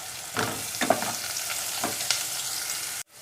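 Chopped onion, garlic and green chili sautéing in a hot pan for a mixed vegetable thoran, a steady close sizzle with a few soft stirring scrapes, no voices.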